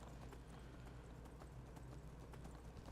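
Horse hooves clip-clop in the video game Skyrim as a horse is ridden, a steady rhythmic patter of hoofbeats that stays faint and quiet throughout.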